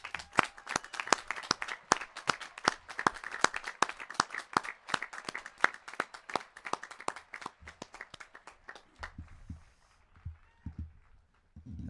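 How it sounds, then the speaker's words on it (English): A graduation ceremony audience at Granite Falls High School claps for families, parents and guardians, with dense, steady applause that tapers into scattered claps and a few low thumps near the end. "So please join me in a round of applause for our family,"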